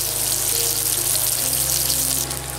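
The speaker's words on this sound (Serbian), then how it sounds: "Dok se slanina prži" Bacon slices fry in a spoonful of oil in a pan, giving a steady, loud, unbroken sizzle with no talking.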